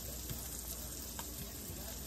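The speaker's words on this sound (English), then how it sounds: "So I'm just getting butter on the cast iron" Butter sizzling on a hot cast iron pan, a quiet, steady crackling hiss with faint ticks, heard up close with no talking.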